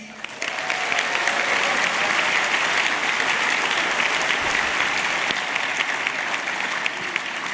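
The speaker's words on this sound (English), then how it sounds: "So I want to give a huge round of applause to all the organisations that are out there in the background promoting apprenticeships." A large crowd at the Multicultural Apprenticeship Awards ceremony claps loudly and steadily for over seven seconds, a full, sustained applause with no speech over it.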